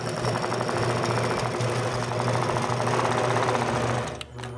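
A sewing machine quilts straight lines along a ruler with a rapid, even mechanical stitching rhythm, close and steady, before stopping just before the end.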